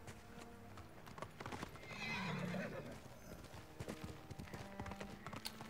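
Horse hooves clip-clop steadily in Ghost of Tsushima, with a loud whinny rising in the middle of the hoofbeats and game sounds underneath.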